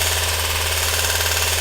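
A belt sander runs continuously at close range, a loud steady buzzing drone with a strong low hum and no change in pitch.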